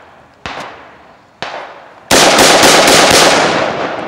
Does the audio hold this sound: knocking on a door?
no